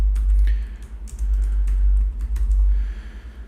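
Rapid typing on a computer keyboard, a steady run of close, crisp key clicks with brief pauses, loud and alone with no talking.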